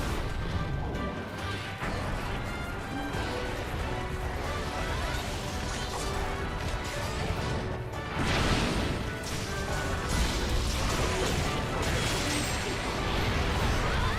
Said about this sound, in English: Okay, that was a good explosion.